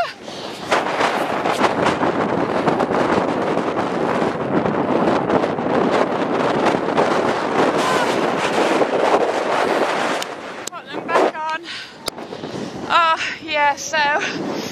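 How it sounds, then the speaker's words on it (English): Strong mountain wind buffets the microphone in a continuous loud roar on an exposed hike up Mynydd Mawr in Snowdonia, North Wales, easing near the end as a person talks briefly. "Hear how windy it is."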